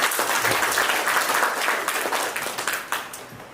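An audience at a public speech event in Kerala breaks into a big round of applause. Dense, loud clapping fills the room and gradually thins and fades toward the end.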